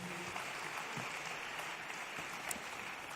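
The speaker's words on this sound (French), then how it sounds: "On peut vous applaudir." An audience applauds round-table participants with steady, distant clapping that forms a soft, even wash throughout.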